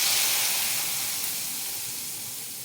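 Mustard seeds tempering in hot cooking oil give a steady broadband sizzle and hiss, loud at first and slowly easing, with no voices over it.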